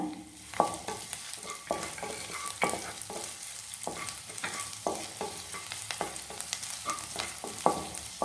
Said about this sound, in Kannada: ಬೆಳ್ಳುಳ್ಳಿ ಕಟ್ ಮಾಡಿರೋದು ಮತ್ತು ಶುಂಠಿ ಕಟ್ ಮಾಡಿರೋದು ಅದನ್ನು ಹಾಕ್ಕೊಳ್ಳಿ. ಫ್ರೈ ಮಾಡ್ಕೊಳ್ಬೇಕು.